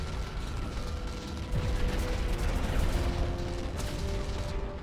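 Sustained gunfire from an enemy blind-firing in the shooter game Crysis Remastered, a dense continuous rattle of shots and mechanical clatter swelling midway and holding steady, with no talk over it.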